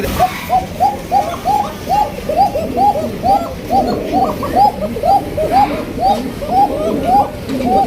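Fancy-breed pigeons at a bird market coo in a dense, repeated rhythm of rising hoots, several birds overlapping close by amid background crowd chatter.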